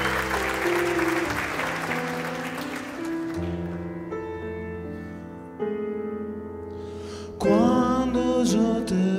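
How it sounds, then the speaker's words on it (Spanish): Audience applause greets Topo Encinar at a tribute concert for Javier Bolea, a dense patter blended with sustained music that thins and fades out over the first few seconds as the music carries on. "Recibamos en este caso, con un fuerte aplauso, al Topo Encinar"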